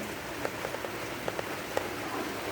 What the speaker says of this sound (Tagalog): Umuulan kasi dito.